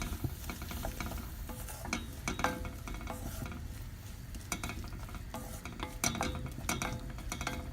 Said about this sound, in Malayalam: ഒരു വലിയ സവാള അരിഞ്ഞത് അതിലേക്ക് ഇടുകയാണ്. ഇത് നന്നായിട്ടൊന്ന് വഴറ്റണം.